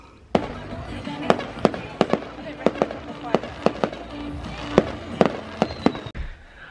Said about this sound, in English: Fireworks were good.